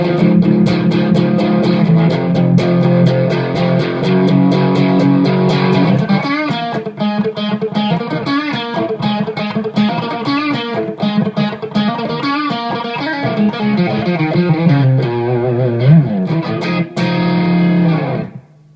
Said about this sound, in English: it's a great distortion sound